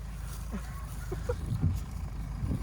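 A motorboat engine runs with a steady low rumble, close and continuous, while voices speak briefly over it.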